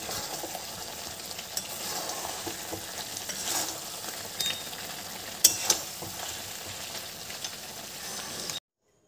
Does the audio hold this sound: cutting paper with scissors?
no